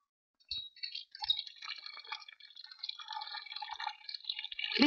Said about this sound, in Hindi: विशाल ठंडे ठंडे पानी से नहाना चाहिए